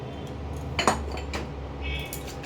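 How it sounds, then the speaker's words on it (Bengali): A wok set down on an induction cooktop in a home kitchen gives a couple of sharp metallic clanks and a brief scrape, close and clear with no talk. "কড়াইটা বসিয়ে দিলাম"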